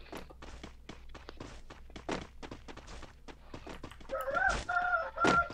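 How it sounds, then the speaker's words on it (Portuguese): Rooster crowing inside the Free Fire battle royale game, a couple of drawn-out calls rising near the end over footsteps, thuds and steady game noise. "Olha o galo cantando, moço."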